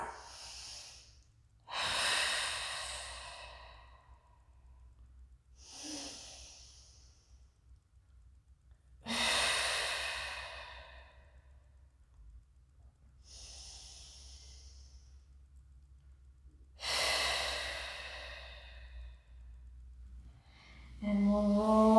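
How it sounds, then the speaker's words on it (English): Slow, deep breaths in child's pose during a prenatal Pilates mat class with a small ball: three long, airy inhale-exhale cycles spaced several seconds apart, close and clear over a quiet low hum. "And just take 3 deep breaths."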